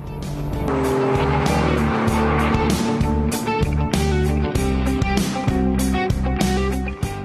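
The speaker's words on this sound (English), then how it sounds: "The new engines also sound strong and dynamic." A three-cylinder car engine revs and pulls hard, its tone rising and falling through gear changes, loud and close with tyre noise underneath.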